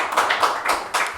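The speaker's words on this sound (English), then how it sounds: "I think our panelists deserve a round of applause" A few close, distinct hand claps from the audience for the panelists at a Ghana debate event, sounding as separate sharp slaps in an irregular rhythm rather than a full wash of applause, with no talking.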